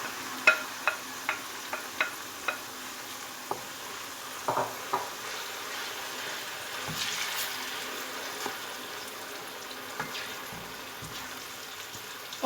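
Ground tomato, ginger, salt, dried coriander and turmeric frying in a pan for masala bhindi give a low steady sizzle, punctuated by a series of sharp spoon taps on the pan edge and occasional stirring scrapes.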